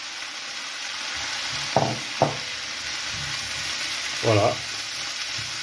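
Perugina sausages and mushrooms sizzle steadily in a pan, with a few soft knocks of stirring. A voice speaks one brief word over the frying.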